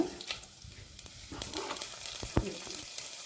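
A dried chilli, chana dal, urad dal, mustard seeds and cumin fry in hot oil, giving a close, fairly quiet sizzle broken by sharp pops and spatters, with stirring scrapes and no one speaking.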